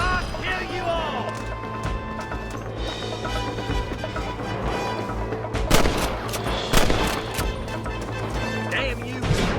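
Gunfire in Red Dead Redemption, several sharp shots and bursts over busy game music and effects, with loud cracks near the middle of the clip and voices shouting at times.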